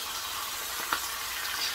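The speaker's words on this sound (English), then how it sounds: "Now I'm gonna add the lemon juice, that way while it's simmering." Lemon juice goes into a pan where branzino fillets simmer in lemon butter, giving a steady, close sizzle and hiss throughout with a brief splashy spike partway, no voices.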